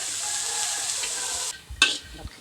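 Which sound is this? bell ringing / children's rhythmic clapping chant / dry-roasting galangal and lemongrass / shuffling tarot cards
dry-roasting galangal and lemongrass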